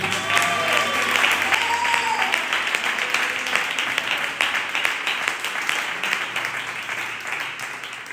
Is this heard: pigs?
no